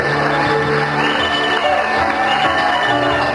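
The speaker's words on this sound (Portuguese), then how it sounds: "Palmas, gente, para fecharmos com chave de ouro." A graduation audience cheers and claps in a hall, a steady dense roar of crowd noise with whoops and shouts, loud and sustained throughout.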